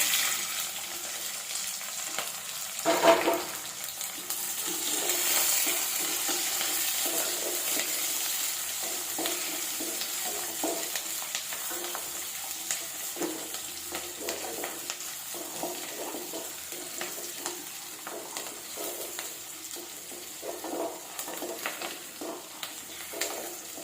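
Small onions and sundakai frying in a pan, a soft steady sizzle with occasional stirring scrapes and a brief louder clatter early on, heard alone without talk.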